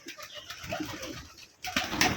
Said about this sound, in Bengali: প্রায় সব রকম কালার কবুতরই আছে এখানে